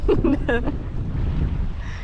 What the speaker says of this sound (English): Kind of windy, but it makes it a little hard to paddle.